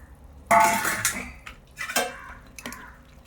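Dried prawns, both whole and ground, being mixed together in a dish, with close, sharp scraping and clinking of a utensil against the bowl in a few quick bursts.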